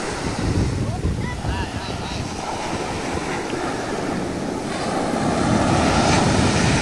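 Wind and surf roll steadily across the beach of An Duong village, Phu Thuan, Phu Vang, near Hue, Vietnam, where fishing boats rest on the sand; a broad, constant rushing roar with buffeting gusts that grows slightly louder toward the end.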